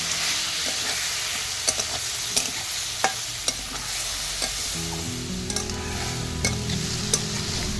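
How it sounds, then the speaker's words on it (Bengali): Ground chili, coriander and cumin with a little water cook down in a pan for a Bengali fish curry with okra, sizzling steadily and loudly while a spatula stirs with sharp periodic scraping knocks. "কিছুক্ষণ কষে নেব"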